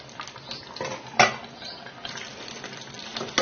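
A tamarind curry cooking in a pot: a ladle scrapes and clinks against the metal, with soft bubbling and sizzling underneath and sharper knocks near 1.2 s and 3.4 s.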